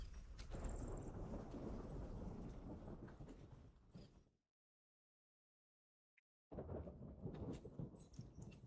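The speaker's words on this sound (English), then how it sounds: "Just a little stormy out." A rainstorm with thunder rumbles in The Division 2, with heavy rain and low thunder loud at first, then a sudden silence of about two seconds before the storm noise returns.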